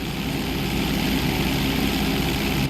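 Propeller plane engine in a GTA game, heard steadily during a Los Santos pilot license flight test as it rolls upright, with a continuous loud droning hum and low throb holding even throughout.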